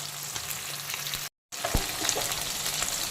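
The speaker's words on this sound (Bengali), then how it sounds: "মোরলা মাছের একটা দিক কিন্তু মিডিয়াম ফ্রাই হয়ে গেছে" Small mourala fish frying in a pan of hot oil, cooked to a medium fry, give a steady, close sizzle that cuts out briefly before resuming with occasional spits and pops.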